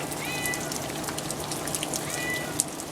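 A cat meows outdoors in a yard during a rainstorm, two drawn-out mid-distance meows standing out over a steady patter of rain.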